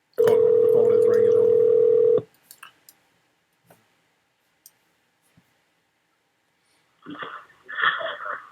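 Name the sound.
telephone ringing on an outgoing call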